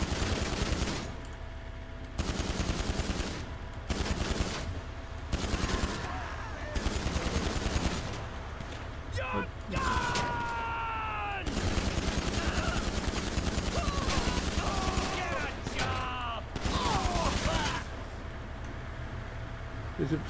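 Gunfire aimed at a player in GTA 5 Online comes as rapid, loud automatic bursts in repeated volleys with short gaps, mixed with bullet impacts and game effects, and a voice talking now and then.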